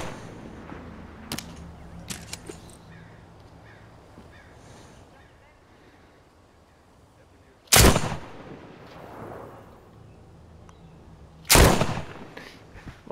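Gunfire in the zombie survival video game The Walking Dead: Saints & Sinners, played in VR on PSVR2: two loud, sharp shots several seconds apart over a quiet background rumble.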